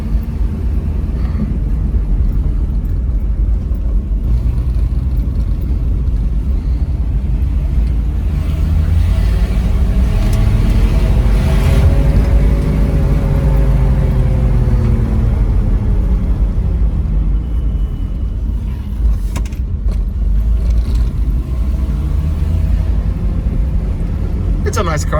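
Chevrolet 250 inline six-cylinder engine idling in a car, a steady low rumble with a smooth continuous tone that rises and falls gently in pitch partway through.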